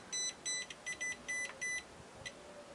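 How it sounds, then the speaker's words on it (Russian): Repeated electronic beeps from a DEKO green-beam laser level signalling it is off level, short bright tones in an uneven series of about six pulses, fairly close and alone over low room noise. "Ищем положение, в котором он не пищит."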